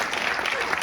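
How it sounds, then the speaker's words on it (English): Gala audience applause, a brief, steady burst of dense clapping from a crowd filling the moment at moderate loudness. "Let's give Karma another round of applause."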